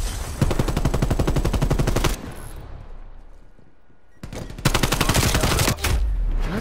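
Rapid automatic gunfire from the video game Call of Duty Black Ops Cold War, loud and close. Sustained bursts are broken by a short quieter pause, then firing resumes.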